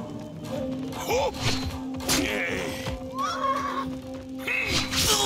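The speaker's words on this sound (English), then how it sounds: "Gotta deal with horse riders now." Horses neigh and whinny in a Trek to Yomi battle against mounted riders, loud and close, mixed with hoof thuds, impacts and a steady tonal score.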